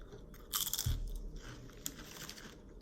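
A keto chip bitten with a sharp crunch near the start, then quiet close-up chewing, soft and fading, with no talking.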